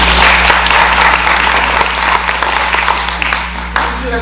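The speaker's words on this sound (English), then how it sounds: "Let's give her a round of applause" Audience applause at a school district community learning night, a dense patter of clapping heard over a constant low electrical hum, with a few voices mixed in.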